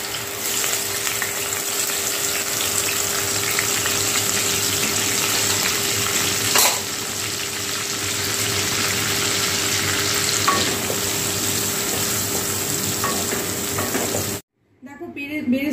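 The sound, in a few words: ginger, onion, garlic and green chilli paste frying in mustard oil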